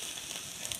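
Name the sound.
steel spatula blade scraping on a Blackstone griddle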